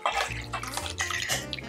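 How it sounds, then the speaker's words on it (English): Refrigerated sourdough-style starter poured into a bowl of stirred potato flakes gives a brief, close, wet splashing and glugging, steady for under two seconds with no talk over it. "you take your starter that you've had in the refrigerator and you just pour it in there"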